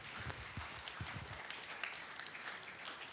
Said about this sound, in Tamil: கைத்தட்டி கடவுளுக்கு நன்றி சொல்.